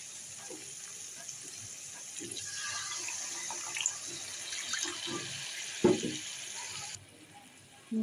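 Water pours into a frying pan of spiced fish, a steady close gush and splash that runs for several seconds, then stops abruptly near the end.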